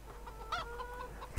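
Chickens clucking on a farm in Farming Simulator 2013, a few soft broken clucks spread across the moment at moderate distance, alone with no talk.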